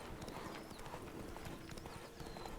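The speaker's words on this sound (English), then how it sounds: "So, riding the horse" Rhythmic clip-clop of horse hooves as a rider gallops in The Witcher 3 video game, steady and close, with a faint whinny and soft game ambience underneath.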